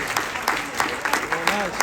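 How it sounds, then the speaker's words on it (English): Scattered applause from a small audience at a speaking event, a few claps standing out over a busy room, with a voice briefly audible underneath. "Round of applause."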